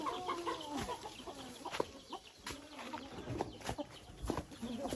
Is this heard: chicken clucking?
yes